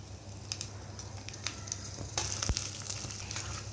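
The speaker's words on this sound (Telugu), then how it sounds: "ఆయిల్ వేడెక్కిందండి, పోపు వేసుకుందామండి." Spices tempering in hot oil in a pan on a stove while semiya curd rice is prepared, a steady close crackling sizzle with scattered pops and a sharper burst near the end, with no talk.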